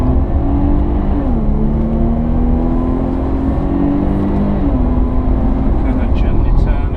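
A Jaguar XF with 360 hp powers out of a corner on the Pamplona circuit, its engine droning loud and steady from inside the cabin as the pitch climbs, eases at a gear change and climbs again.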